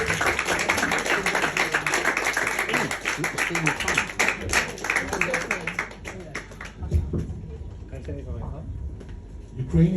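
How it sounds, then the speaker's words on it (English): At a comedy bar, the audience claps and cheers for comedian Jędryk, dense applause that holds for several seconds, then thins into scattered claps with voices underneath. "Can you please give a round of applause for Jędryk?"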